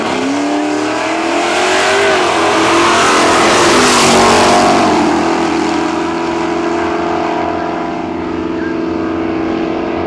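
Nostalgia drag racing cars, including a Maverick, launch down the strip at Cayuga, Ontario, their engines roaring loudly and rising in pitch before fading away as they pull off into the distance.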